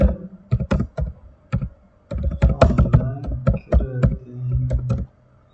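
Code being typed on a computer keyboard for a C-style programming lesson: close, loud bursts of key clacks in quick uneven rhythm, with a brief pause before a longer run of typing.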